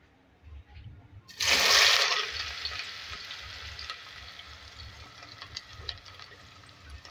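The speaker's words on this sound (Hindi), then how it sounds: "यहाँ पे ऑयल लिया है, इसमें 3 मीडियम साइज़ के मैं प्याज ऐड कर रही हूँ।" Three medium onions hit hot oil with a sudden loud burst of sizzling that peaks, then settles into a steady, softer crackling fry that carries on to the end; no talking.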